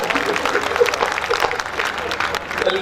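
An audience at a Hindi comic poetry gathering in Behror claps and cheers, with the applause mixed in with voices and crowd noise at a fairly loud level throughout.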